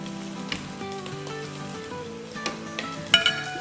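Vegetables sautéing in a pan over medium-high flame, with a soft continuous sizzle under some tonal background sound and a few sharper clinks or stirring knocks toward the end. Nobody speaks.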